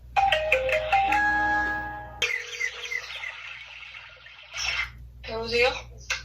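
A phone rings with an incoming call, its repeated electronic ringtone tones sounding clearly at close range, broken by short pauses, with background noise underneath.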